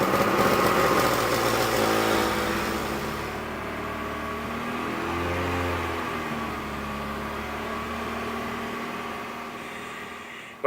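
An Acura Integra engine runs with a leaking exhaust gasket that has pinholes, giving a steady, fairly loud droning note that shifts in pitch midway, heard alone throughout.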